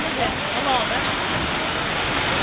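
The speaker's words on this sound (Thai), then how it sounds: "ก็มาแล้วลูกเห็บอ่ะ เต็มเลยเนี่ย" Hail pours down steadily in a dense, loud hiss and rattle, with no pauses, while people talk over it.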